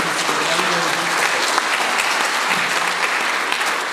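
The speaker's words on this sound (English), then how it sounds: "a round of applause for everybody" Dense, sustained applause from a large audience at the 2025 New Orleans mayoral town hall, steady and loud for the whole stretch, with a few voices faintly mixed into the clapping.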